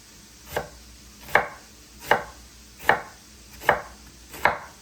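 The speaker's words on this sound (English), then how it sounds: "we're gonna slice this way very thinly" A knife slices pork thinly on a cutting board for carnitas tacos. Six crisp, evenly spaced strokes land about once every three-quarters of a second, close and clear, with no talk.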